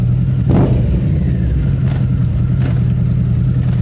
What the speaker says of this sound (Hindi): आवाज इस बाइक की जब दिल पे जाके लगती है भाई